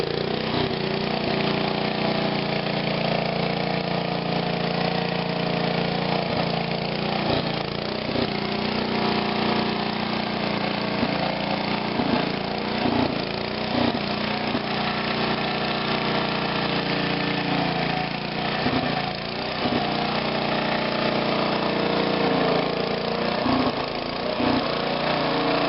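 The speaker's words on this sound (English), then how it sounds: "That is running off the generator." A 1954 Kohler 1.5M25 generator engine runs continuously at a steady, even drone, close and fairly loud, with no talking over it.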